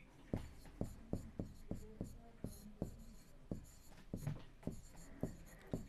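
Chalk or pen strokes on a board during a Class 7 maths lesson, a quiet series of sharp tapping and scratching marks in an uneven rhythm, close and soft with no talking.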